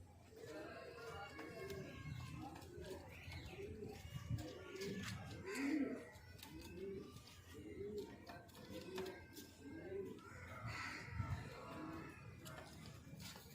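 Soft, repeated coos from caged pigeons over a steady background murmur, with faint chirps scattered throughout.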